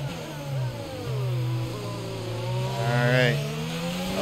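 An F1 race car in the F1 22 video game accelerates on medium tires, its engine note climbing in smooth whining sweeps. The gear changes stand out clearly at moderate volume with no talking.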